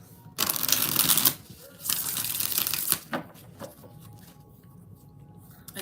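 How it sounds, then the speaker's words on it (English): Cards are riffled and shuffled in two quick bursts of rapid fluttering, followed by softer handling and a faint voice in the background. "All right, one more shuffle."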